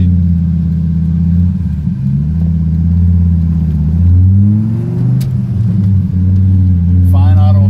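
A 2002 Hennessey Viper's engine revs loudly while driving, its deep rumble rising and falling in pitch with the throttle. Voices talk over it throughout.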